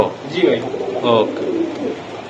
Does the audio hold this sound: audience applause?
no